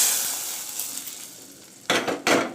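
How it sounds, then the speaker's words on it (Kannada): Palak dal being stirred with a spoon after a hot mustard-chilli tempering is poured in, soft scraping and faint sizzle, then two louder clattering stirs against the pot near the end. "ಈಗ ನಾನು ಸ್ಟವ್ ಆಫ್ ಮಾಡಿಕೊಂಡು ದಾಲ್ ಜೊತೆ ಮಾಡಿ ಮಿಕ್ಸ್ ಮಾಡ್ಕೊತೀನಿ"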